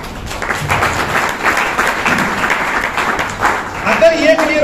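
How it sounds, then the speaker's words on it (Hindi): Applause from the audience at a training camp session in Rohtak, with dense, even clapping close by throughout the few seconds and a brief tonal sound near the end. "एक बार तालियां मार लें"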